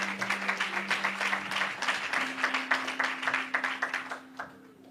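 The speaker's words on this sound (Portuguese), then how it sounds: "Uma salva de palmas." Applause at a graduation ceremony, a small crowd clapping in a steady, rhythmic patter for several seconds before thinning out, with a sustained tone humming underneath.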